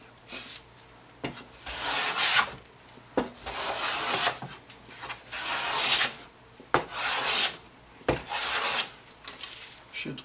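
A hand plane is pushed along a wooden board in repeated rasping strokes about a second long each, with short quiet gaps as it is drawn back, sounding close and fairly loud.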